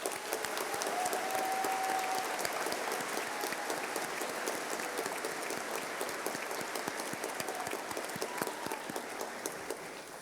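A graduation audience at the UMass Amherst College of Engineering ceremony claps and cheers for faculty and staff, with dense, sustained applause holding loud throughout, then easing slightly near the end.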